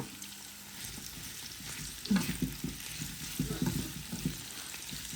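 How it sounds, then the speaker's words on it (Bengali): Shrimp fries in a pan with onion, chili, salt and garlic paste, a continuous sizzle broken by scraping stirring strokes that grow busier partway through, close and moderately loud, with no talk. "আমি জাস্ট পেঁয়াজ দিই চিংড়ি মাছটারে মরিচ দিয়ে ভাজি করুম"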